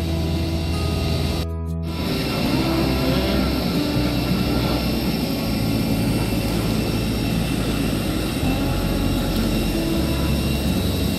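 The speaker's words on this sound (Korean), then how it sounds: "비행기 엔진 소리가 막 나네요." Jet engines of an airliner at Siem Reap International Airport run before departure, a steady loud broadband roar and hum heard from inside the cabin, continuous throughout with a brief dip near the start.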